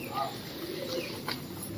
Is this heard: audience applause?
no